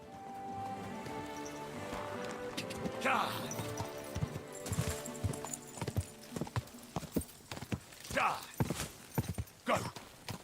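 A horse's hooves clip-clop in a quick, uneven rhythm on the ground in the medieval video game Kingdom Come Deliverance II, growing louder toward the end, with a voice briefly muttering over it.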